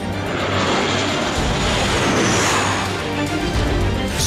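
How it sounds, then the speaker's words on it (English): FA-50 supersonic fighter jet flying by: a loud, close, sustained jet roar that swells and sweeps in pitch as it passes, with no voices. "Performance of supersonic fighter."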